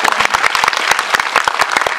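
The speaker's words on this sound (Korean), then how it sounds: "박수 부탁드립니다." A seated audience at a film talk event applauds with steady, dense, close clapping that holds at full strength throughout, with no voices rising above it.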